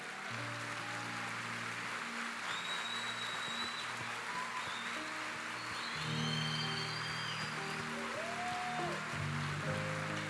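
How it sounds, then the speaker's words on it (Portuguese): A church congregation applauds a teacher, Professora Ana Maria, with a sustained round of clapping at moderate distance, steady throughout with a slight swell past the middle, mixed with low hum and faint tones. "eu queria que ela ficasse de pé para você honrá-la com uma salva de palmas"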